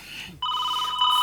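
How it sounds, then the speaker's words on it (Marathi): A telephone bell rings loudly in a Marathi comedy sketch, starting abruptly after a brief quiet and continuing as a steady electronic ring that grows slightly louder toward the end. "फोनची रिंग."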